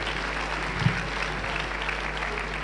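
Church congregation applauding in acclamation of Jesus Christ during a joint worship service, a steady wash of many hands clapping at a fairly constant level throughout, with no single standout voice.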